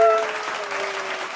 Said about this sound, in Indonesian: Boleh tepuk tangan dong teman-teman.